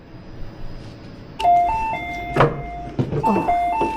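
A multi-note electronic ding-dong chime in a Japanese multi-storey car park, a clear melodic tone sequence that repeats, close by, over low mechanical background rumble.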